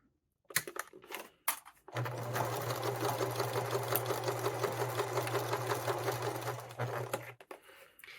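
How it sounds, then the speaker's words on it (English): A sewing machine runs a steady basting stitch about an eighth of an inch from the edge through several layers of fabric for an Easter egg cutlery holder, a close, even mechanical whir after a few clicks, with no talking. "I'm going to do a basting stitch all the way around, and this is just going to keep all these layers together"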